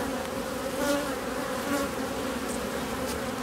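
Honeybees drone steadily around an open hive at a muddy apiary after rain, a dense continuous buzz close by with occasional louder passes of individual bees and no voices.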